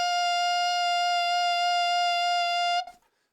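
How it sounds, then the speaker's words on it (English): A single sustained high D on an alto saxophone holds clear and steady for nearly three seconds, then cuts off abruptly, leaving near silence. "the high D sounds like this"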